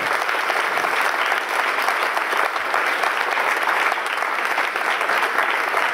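A large audience applauds young award nominees at an evening ceremony, steady dense clapping filling the hall for the whole stretch without a break.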